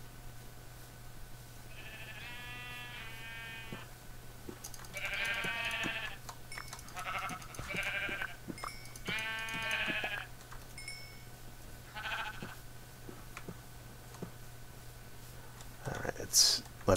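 Sheep bleat repeatedly in a Minecraft-style video game, several wavering cries in a row at moderate volume over a low steady hum, with a brief thump at the end.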